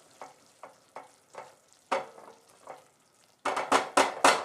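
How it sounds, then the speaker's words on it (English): Rice simmering in broth in a pan is stirred in a steady series of scraping strokes, close and clear, growing louder and denser toward the end over a soft sizzle. "Give it a little stir."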